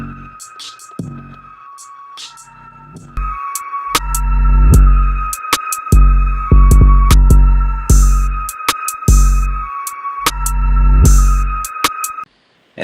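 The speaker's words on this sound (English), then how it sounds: "Then we took the 808 and we reversed it" Deep booming reversed 808 bass swells that rise and cut off abruptly, over a repeating beat with sharp hits and a high sustained tone.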